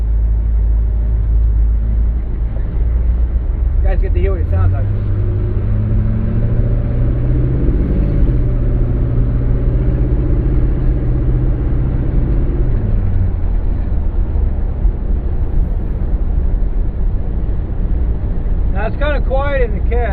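Steady low engine drone and road rumble from a 1986 M1008 military truck while driving, heard from inside the cab, with someone talking over it at times.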